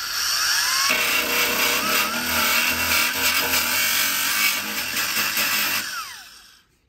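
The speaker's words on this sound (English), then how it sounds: "So I need to take my grinder and just clean that up a little bit." Angle grinder cleaning metal for a body ground on a 1976 Ford Bronco Sport parked for 30 years, a loud whining spin held up close, pitch wavering under load, then winding down to silence.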